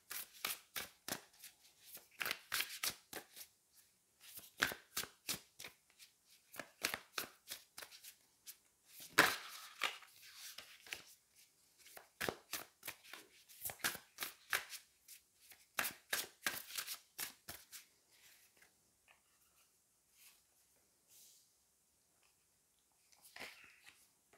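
A Wild Unknown tarot deck shuffled by hand in quick, crisp riffling bursts, close up, repeated for about eighteen seconds before trailing off into near silence, with no voices.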